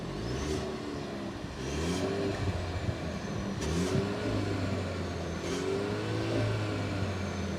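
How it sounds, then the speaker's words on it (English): Mercedes-Benz GLC 400e engine revved in park, heard from outside the car: a fairly quiet, steady mid-pitched engine note that swells in a few gentle rises, fairly distant and low in level, with no talking. "we will be putting the car into park, and we'll be revving it a bit from the outside,"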